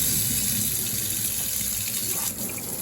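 Water runs steadily from a laundry slop sink faucet, a constant hiss and splash, loud and close, with a slight change near the end.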